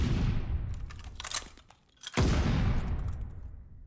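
Bursts of gunfire in a competitive multiplayer shooter match on a street map, loud rapid volleys that drop out briefly and then resume, with no talk.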